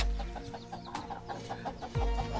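Native chickens cluck in short, repeated bursts at a moderate distance, scattered over a busy farmyard background.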